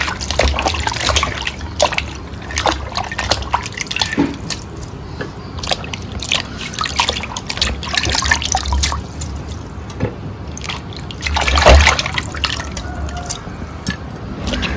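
Bitter gourds (kakarakaya) being washed by hand in a basin of water, with steady dripping, trickling and splashing that continues close and moderately loud for the whole stretch, swelling briefly near the end.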